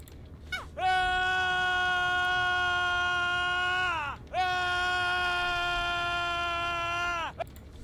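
Renato's survivor scream from the horror video game Dead by Daylight: two long, loud, tonal screams in a row, each held steady and then dropping away at the end.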